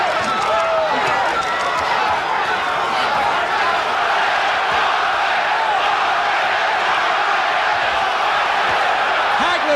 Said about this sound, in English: the crowd is chanting Duran's name